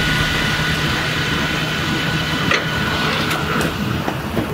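A 1,300 horsepower drift car engine idles on the street, a steady loud low rumble with a rough vibrating texture that holds throughout, with no voices.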